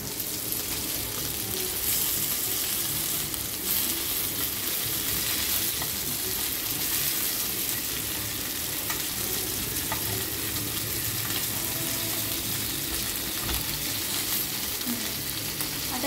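Bangada mackerel frying in a pan, a dense, continuous loud sizzle and crackle that holds steady throughout with no talking.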